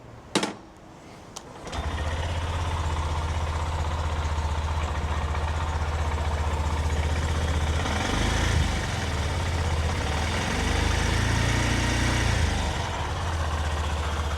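A Honda CB125F motorcycle with 106,000 miles and a newly fitted chain and sprockets starts with a clatter after a brief pause, then idles steadily and close by, with a couple of slight revs.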